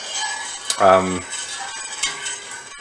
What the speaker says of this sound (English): Just going to stir it occasionally.